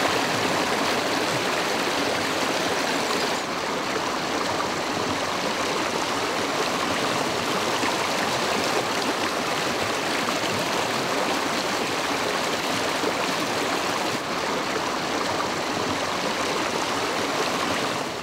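River water rushes steadily past old stone water-powered mills, a dense, continuous broadband stream roar heard close and loud throughout, with no voices.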